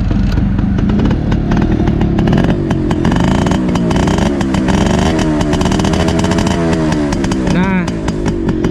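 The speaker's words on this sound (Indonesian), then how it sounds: "suara Suzuki RC100 itu kencering beda dari 2 tak yang lain." Suzuki RC100 Bravo two-stroke motorcycle engine kick-starts with a single kick and runs loud and close, a raspy, crackling buzz with rising and falling revs throughout, while a voice talks over it.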